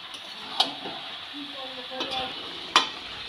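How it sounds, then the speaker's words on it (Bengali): Boiled cabbage being stirred with spices in a pan for a Bengali vegetarian curry: a soft sizzle broken by three sharp clinks of a spatula on metal and some scraping between them. "বাঁধাকপিটাকে মশলার সাথে ভালো করে নেড়ে চেড়ে মিশিয়ে নেব।"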